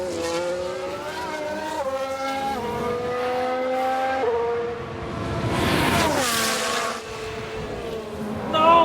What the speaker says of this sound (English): Okay, here's the Ferrari. Well, they've locked up.